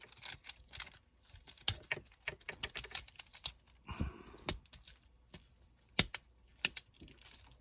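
Plastic Transformers toy parts, yellow pieces from Leadfoot and Master Dominus, clicking and snapping as they are moved, making a string of sharp close-up clicks and taps in irregular bursts with brief pauses between them.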